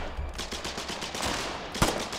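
Gunfire in Aliens: Colonial Marines during an assault on an enemy foxhole, a dense run of rapid shots and battle noise with one sharper crack near the end.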